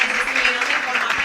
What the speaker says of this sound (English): We would like to close with a round of applause.